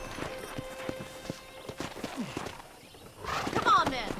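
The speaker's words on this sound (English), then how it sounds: "let's see if you can still ride a horse" Horse hooves in the video game Red Dead Redemption clip-clop at a walking pace for a few seconds, then a brighter burst of noise follows near the end.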